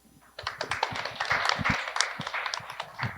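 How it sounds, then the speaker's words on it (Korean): Audience at a social science data forum panel discussion clapping for a departing panelist, scattered claps that build into a moderate round of applause and hold steady. "지금 박수 쳐드린 거는 이제 이석하시니까 박수 쳐드린 거고요"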